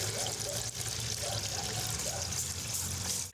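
Water pours and trickles steadily into a dog's water bowl outdoors in hot weather, a continuous close splashing stream with a faint voice or background murmur underneath.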